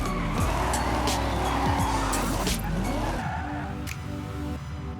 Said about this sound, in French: c'est vraiment satisfaisant quand vous faites un bon drift